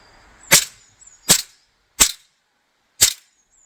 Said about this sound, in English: Let's try and do a few rapid shots and then let it warm up a bit.